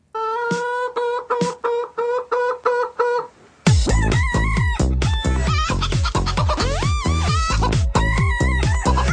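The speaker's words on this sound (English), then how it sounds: "Chicken song." Chickens cluck in a short steady series, then a rooster crows loudly and close among more dense clucking, with no talk over it.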